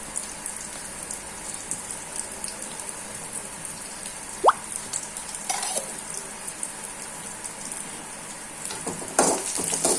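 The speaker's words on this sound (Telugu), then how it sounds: "దీన్ని మాత్రం బాగా ఫ్రై అవ్వనివ్వాలి" Onions frying in a pan with salt and turmeric give a steady, soft sizzle with light stirring scrapes, one brief sharp clink partway through and a rougher burst of sizzle near the end, with no talking.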